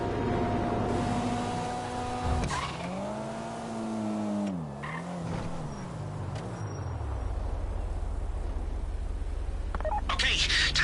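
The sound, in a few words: phone dialing to trigger vault door in video game GTA V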